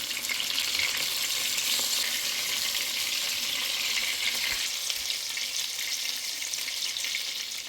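Steady crackling sizzle of zucchini cutlets frying in a pan, close and continuous, with a slight dip in intensity partway through.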